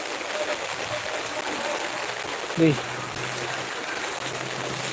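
Floodwater from the Kannara river rushes past in a steady, broad roar after the Peechi dam gates were opened, with a brief faint chirp partway through.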